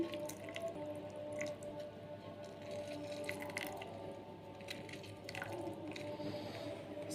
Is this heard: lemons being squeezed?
yes